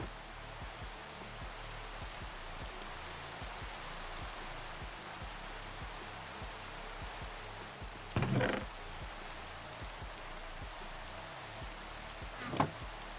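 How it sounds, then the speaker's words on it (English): Steady video game rainfall in modded Minecraft hissing continuously at a soft level, with a couple of brief louder bursts and faint rhythmic thumps beneath. "can it stop raining, please?"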